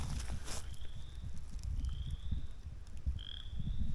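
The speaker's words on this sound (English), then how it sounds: "Wow, the frogs are full bore." Frogs croak in a dense, continuous chorus near a rural property, with low rapid croaks and a few higher chirping calls standing out above the steady outdoor din.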